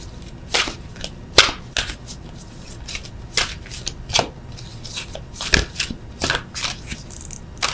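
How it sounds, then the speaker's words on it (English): Tarot cards are handled and drawn from a deck, giving a string of crisp papery snaps and slides at an irregular rhythm, close and fairly quiet, with no voice over them. "I'm going to just pull one of these beastly cards."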